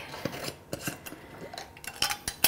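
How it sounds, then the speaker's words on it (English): A glass jar of vinaigrette with chili pepper or smoked paprika and oil is shaken by hand, giving a run of irregular clinking, rattling knocks of moderate loudness with no talking. "When you shake it by hand like this, you end up with a really nice light vinaigrette."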